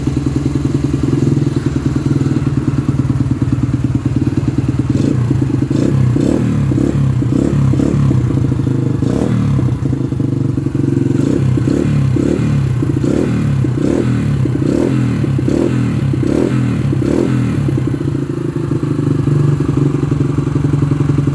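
Yamaha XTZ 125 motorcycle engine running close by, a loud steady idle with rapid thumping exhaust pulses and a series of short blips and clattering revs through the middle, no talk over it.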